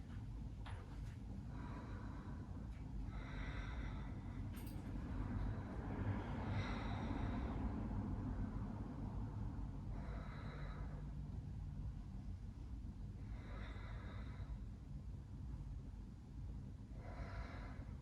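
Slow, deep breaths during a yoga bind pose come as long, soft, airy swells, about five evenly spaced, under a steady low background hum with no talking.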